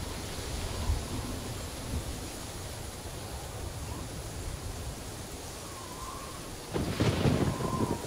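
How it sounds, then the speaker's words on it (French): A thunderstorm builds over a rainforest canopy: steady rain hiss with low distant rumbles, then a louder, closer thunder crack and roll near the end. "Un orage se prépare"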